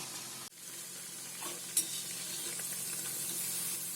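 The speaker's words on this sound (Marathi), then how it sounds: "अशी सगळी भाजी आहे ना थोडी तेलामध्ये राहील तेवढी चमच्याने सोडून घ्यायची." Spoonfuls of vegetable bhaji batter frying in hot oil, a soft, continuous sizzle with a brief stirring knock near the start.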